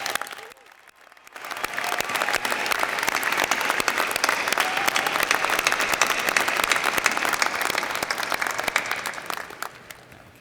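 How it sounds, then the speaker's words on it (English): A large commencement audience at an undergraduate graduation ceremony breaks into loud, sustained applause for the faculty, a dense wash of clapping that swells after a brief quiet start and continues steadily to the end. "Would you all join me in a round of applause for our outstanding faculty?"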